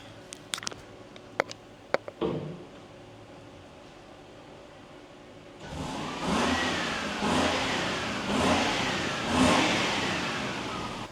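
After a few clicks and a pause, a Lexus LS400's engine starts and revs repeatedly, its aftermarket exhaust rising and falling in three or four rough surges.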